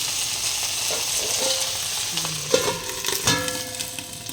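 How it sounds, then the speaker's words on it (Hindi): Bhujia vegetables fry in a pan on an induction cooktop, a steady close sizzle running throughout with brief stirring scrapes and clinks near the end. "इससे कितने अच्छे तरीके से भुजिया बन रहा है"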